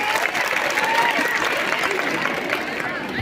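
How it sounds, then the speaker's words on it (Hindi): Audience applause at a school annual function and silver jubilee celebration, a steady dense wash of clapping throughout with some crowd murmur mixed in. "ममता मैम के स्वागत के लिए एक बार फिर से जोरदार तालियां बजाएं।"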